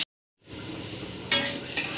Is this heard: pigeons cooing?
no